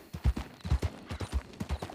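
Hooves of a horse in a video game clip-clop at a steady trotting rhythm, moderately loud and close, with no talking over them.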